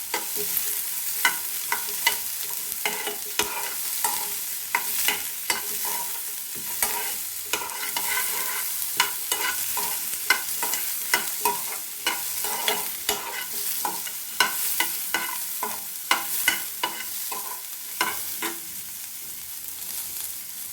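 Small onions fry in a pan under a continuous close sizzle, with frequent rhythmic scrapes and taps of a spatula stirring them throughout, and no voices.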